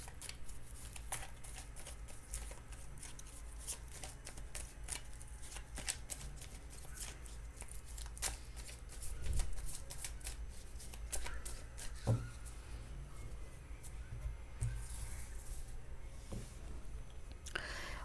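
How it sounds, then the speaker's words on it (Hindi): Tarot cards are shuffled by hand with soft, close riffling and flicking, with repeated brief snaps and light rustles in an otherwise quiet room. "मैं कार्ड शफल कर रही हूँ जब तक आप उनको ध्यान में लाइए"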